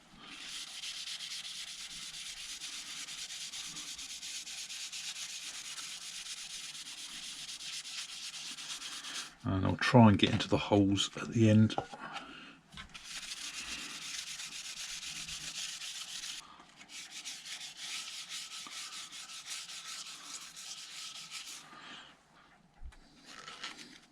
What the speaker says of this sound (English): I just literally ran a bit of 600 grit paper over the top